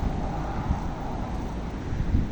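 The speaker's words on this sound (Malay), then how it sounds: "Daripada petang semalam sampai hari ni angin agak kuat." Strong wind blows outdoors, buffeting the microphone with a steady low rumble and gusty surges, with no voices.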